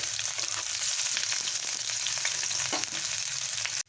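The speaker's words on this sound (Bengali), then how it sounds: "পেঁয়াজটা ভাজা হয়ে গেছে" Chopped onion fries in oil in a wok over low gas heat with panch phoron spices, a close, steady hissing sizzle with occasional stirring clicks throughout.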